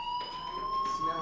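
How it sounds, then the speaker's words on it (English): A fire alarm rings in the video game Life is Strange, a steady electronic tone that holds at a constant pitch at moderate volume, with faint background sound beneath it. "do you hear that fire alarm?"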